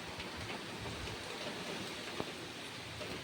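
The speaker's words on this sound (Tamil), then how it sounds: "மழை பெஞ்சால வண்டியெல்லாம் வெளியிலேயே நிற்கிது" Rain falling on vehicles parked outdoors in Coimbatore, a steady hissing patter with scattered drop ticks and one sharper tap midway, moderately faint with no voices.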